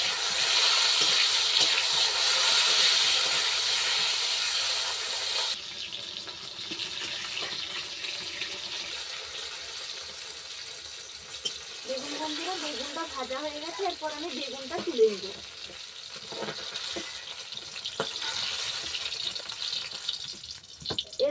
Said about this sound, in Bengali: এরপর বেগুনটা আমি ভেজে নিব